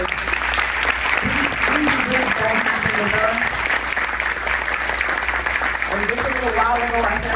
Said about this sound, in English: y'all just give them a round of applause